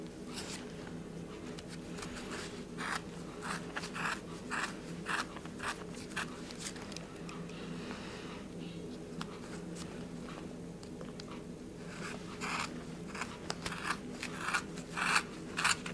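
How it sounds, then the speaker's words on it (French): Scissors snip through doubled wool yarn while a pompom is cut free between cardboard rings, a run of quiet, close, irregular crisp clicks that come faster and louder toward the end. "il faut que je glisse mes ciseaux à l'intérieur ici et que je découpe"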